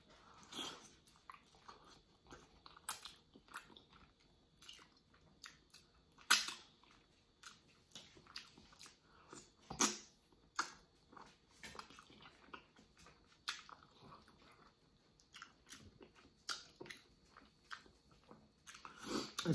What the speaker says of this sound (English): Come on, take that bite. Take that bite.